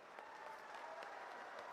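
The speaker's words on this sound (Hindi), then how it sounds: "बजी ना ताली?" Crowd applause at a Congress party political rally in Jobat, Madhya Pradesh, a steady wash of many hands clapping at a distance, even and unbroken, with no speech over it.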